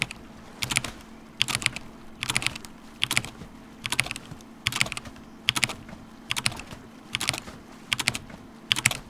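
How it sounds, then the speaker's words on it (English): Keyboard keys pressed in a steady repeating rhythm for a Sea of Thieves sprint trick, short clustered bursts of clicks recurring about every second, close and clear with no talking. "The rhythm of hitting these buttons will sound something like this."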